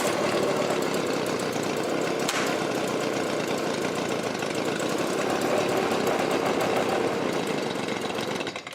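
Stihl small engine nearly out of gas, running shaky and rattly with a loud, continuous buzzing chatter close by, sputtering slightly as it fades near the end, with no talk.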